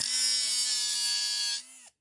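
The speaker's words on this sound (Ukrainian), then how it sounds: "беремо болгарку, беремо кусок металу" An angle grinder cuts a piece of metal with a loud, steady high-pitched whine for over a second before the disc quickly winds down to silence.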